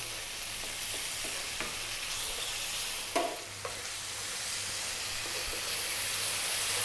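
Tomatoes sizzling in a hot pan on high heat, a steady loud frying hiss with a few scrapes and clacks of stirring, no talking.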